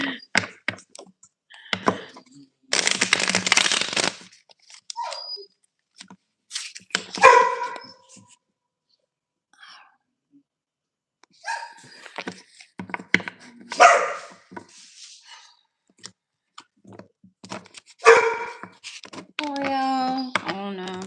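Pet dogs indoors bark in scattered, sharp bursts across a long stretch, mixed with clicking and tapping noises and intermittent talk from a person nearby.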